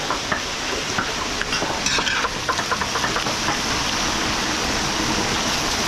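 Garlic and onion sizzle in a pan while being sautéed for catering at a 100th birthday celebration in Pangasinan. A steady frying hiss runs throughout, with occasional scraping and stirring noises on top.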